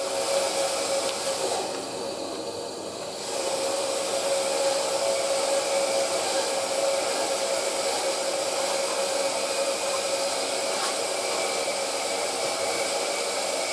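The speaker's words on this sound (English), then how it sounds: "Bit of background noise going on, but that's just my son Sam on the bandsaw" Bandsaw running steadily in a home workshop, a continuous whining hum heard from a distance with a brief dip in level early on, no voices.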